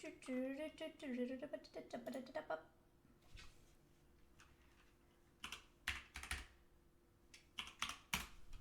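Computer keyboard typing comes through as scattered clusters of quick key clicks, fairly close and quiet, following a stretch of speech at the start.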